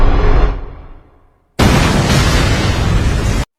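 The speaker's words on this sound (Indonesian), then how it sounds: "saat Veronica sudah mencapai Elizabeth, ranjau yang ada di dekat mereka pun meledak" A landmine blows up in an anime scene: a heavy boom that fades away, then after a brief silence a second loud, sustained blast of roaring noise that cuts off abruptly.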